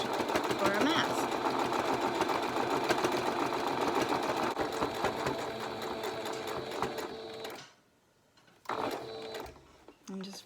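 Sewing machine back stitching a medical face mask, a close rattling mechanical whir running steadily, then a short pause before stitching resumes briefly.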